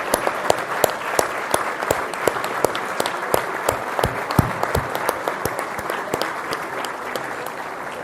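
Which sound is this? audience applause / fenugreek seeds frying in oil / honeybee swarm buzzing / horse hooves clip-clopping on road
audience applause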